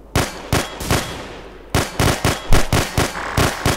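Repeated bursts of loud gunfire in the game The Hidden, a few single shots then a rapid run of sharp blasts in quick succession, with no talking.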